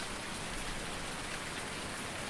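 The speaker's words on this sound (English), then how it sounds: "I don't think I've ever known the rain to last for so long before" Steady, even rainfall in the Farming Simulator 19 video game, a constant hiss of drops pattering on surfaces with no voices over it.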